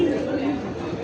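Fancy pigeons of rare colour quality coo in a low, steady murmur through about a second, close by, with faint voices in the background.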